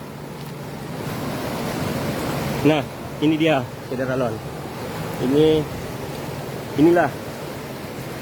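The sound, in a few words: river flowing in a ravine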